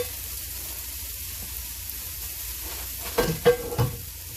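Cauliflower rice with onions and garlic sizzles in a pan over medium heat, a steady hiss with a few brief stirring scrapes near the end, close and without talking.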